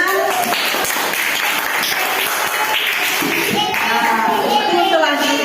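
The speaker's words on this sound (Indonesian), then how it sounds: "Iya, terima kasih tepuk tangan." Children in a classroom clap together in a loud, dense burst, with their voices and chatter running under and over the applause throughout.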